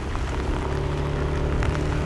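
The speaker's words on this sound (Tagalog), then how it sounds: "Kahit na bumabagyo at malakas ang buhos ng ulan, okay lang yan para sa pamilya." Heavy storm rain pours down in a dense, steady hiss that fills the whole stretch, with a low engine hum running beneath it.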